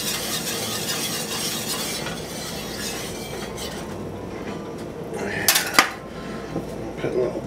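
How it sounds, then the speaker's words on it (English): Sour cream being stirred into a meatball sauce in a pan with the heat off, a utensil scraping and clinking against the pan through steady kitchen noise, with a couple of sharper knocks near the end. "Mix that sour cream in."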